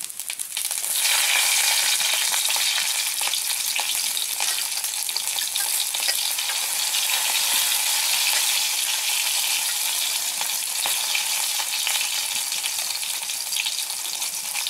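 Green chilies fry in hot oil with a spice tempering, giving a loud, steady crackling sizzle that continues throughout with small stirring noises and no talking.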